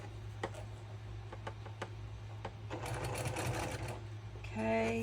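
A sewing machine stitching a double wedding ring quilt runs with a steady low hum and clicking needle strokes, close and moderately quiet, ending in a brief tonal beep.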